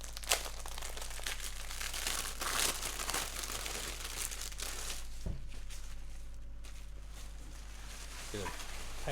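A plastic seal and paper protection being peeled off during the unboxing of a limited edition of the game Fire Emblem Warriors: Three Hopes, with soft, steady crinkling and rustling under a low hum.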